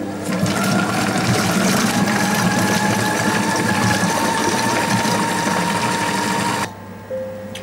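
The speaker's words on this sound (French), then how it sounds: "Donc pendant 40 secondes, on va mixer force 4." A kitchen robot blends pumpkin and potato purée at speed 4, a loud, steady motor whir with a wet churning texture that runs unbroken for most of the stretch, then cuts off abruptly near the end.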